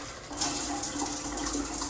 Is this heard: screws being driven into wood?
no